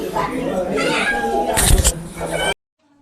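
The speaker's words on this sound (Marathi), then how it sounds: "ही सकाळपासून मांजर नुसती ओरडतच चालली आहे" A house cat meows and yowls loudly and insistently up close, with drawn-out wavering cries and a sharper burst near the end before sudden silence, while people talk over it.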